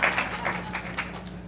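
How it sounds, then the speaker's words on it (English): Audience applause at the opening of a summit session, a short patch of scattered clapping from a room of people, moderately soft and thinning out within a second or two. "They applauded right off the bat"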